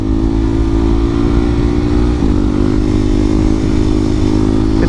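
A Husqvarna 701 700cc supermoto motorcycle revving on a snowy, icy road, a loud steady single-cylinder engine drone held close up without speech.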